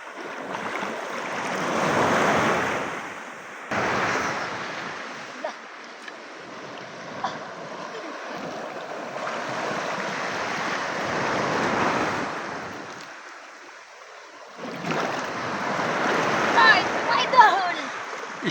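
Rough sea surf washes onto an island shore in repeated long roaring swells, loud and near, with wind buffeting the microphone and brief talk in between.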